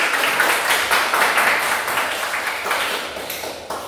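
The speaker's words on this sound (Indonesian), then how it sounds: "kita berikan tepuk tangan." A classroom of students clapping together after a group presentation, a dense steady patter of many hands at close range that continues without a break, gradually easing off toward the end.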